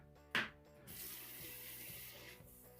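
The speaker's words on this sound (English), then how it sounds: "Rinse our hands." Running tap water splashing into a sink while hands are rinsed, a steady close wash after a brief knock at the start.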